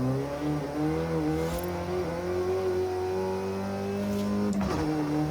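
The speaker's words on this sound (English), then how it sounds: "Of course, it sounds like a rally car." A front-wheel-drive A-class rally car engine in a racing video game drones and revs steadily, its pitch rising and falling with gear changes, loud and continuous with no talking.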